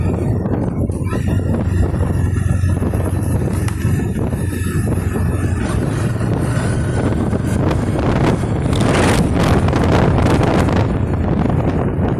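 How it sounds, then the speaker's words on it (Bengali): Strong wind buffeting the microphone during a motorbike ride on a mountain road in Arunachal Pradesh, a steady loud roar with low rumble lasting throughout, no talking. "হাওয়া দিচ্ছে, ছোটো হাওয়া"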